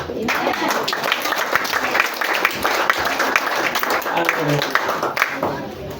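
A church congregation claps together during a Sunday service, a dense, sustained patter of many hands filling the room, with voices mixed in beneath the applause.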